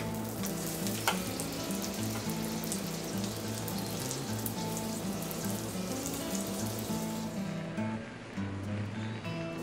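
Aloo paratha frying in ghee on a pan, a constant close sizzle and crackle that holds steadily throughout, fairly quiet and with no talking.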